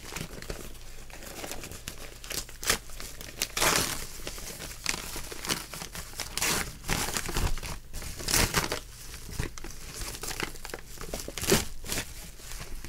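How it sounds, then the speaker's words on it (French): Bubble wrap crinkling and tearing as it is pulled off a PS3 collectible, close irregular bursts of rustle and crackle alone. "J'enlève le papier bulle parce que le papier bulle, ça sert toujours."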